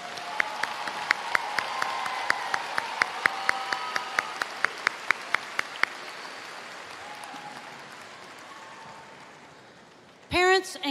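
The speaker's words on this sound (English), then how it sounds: "Can we give another round of applause for our senior choir members?" Graduation-ceremony audience applauding the senior choir members at a high school commencement, a broad wash of clapping under sharp rhythmic claps that fade out, followed by a brief burst of noise at the end.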